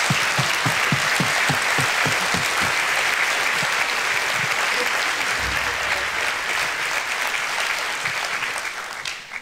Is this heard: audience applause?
yes